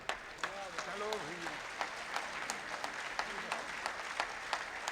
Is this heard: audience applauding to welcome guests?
yes